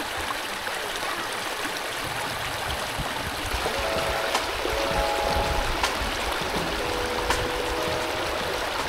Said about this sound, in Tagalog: Yung lagaslas ng tubig.